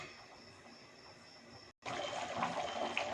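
Curry gravy with a little water simmering in a pan, a soft continuous bubbling and trickling close by, briefly cut off then returning slightly louder.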